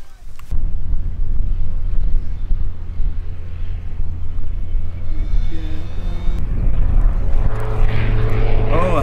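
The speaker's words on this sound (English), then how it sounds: "Oh, a Husky high-speed pass." An Aviat Husky bush plane makes a high-speed pass, its propeller and engine drone building from a steady rumble to a louder rush near the end, with wind buffeting the microphone throughout.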